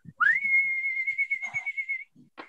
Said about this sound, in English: The magic whistle goes like this